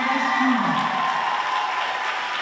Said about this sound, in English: Let's give Mrs. D a big round of applause